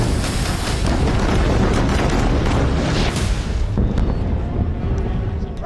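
Bunker buster bombs exploding over Beirut, a sustained loud roaring barrage of booms and rumbling blasts that eases slightly toward the end.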